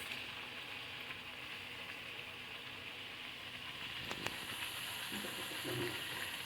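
Ragi thattai, flat finger-millet crackers, fry two at a time in a pan of oil, giving a steady soft sizzle and hiss that brightens slightly near the end, with a few faint clinks of a utensil.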